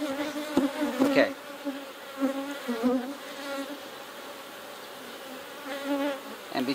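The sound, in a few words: honey bees buzzing in a hive split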